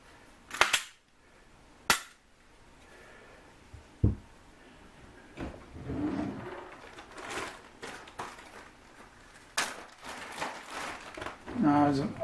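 Handgun being function tested after ultrasonic cleaning, with several sharp mechanical clicks and snaps of the action spread across the clip, close and fairly loud, with quieter handling noise and some speech in between.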